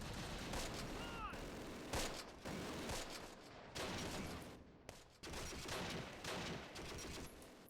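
Sustained machine-gun fire in the Close Combat war game, dense rapid bursts with scattered heavier explosions, loud and continuous with brief gaps between volleys.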